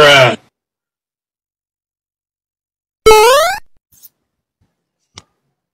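Two short goat bleats, one brief at the start and a louder wavering one about three seconds later, separated by silence, followed by a couple of faint clicks.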